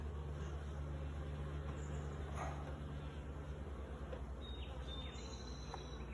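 Honey bees buzz around an opened start-up colony during a hive inspection, a soft continuous drone with occasional closer individual bees passing.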